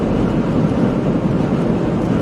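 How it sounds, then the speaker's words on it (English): Strong storm wind near a tornado close to Thurman, Iowa, roaring as a steady, loud, broadband rush that buffets the microphone continuously, with no voices. "So windy, it's insane."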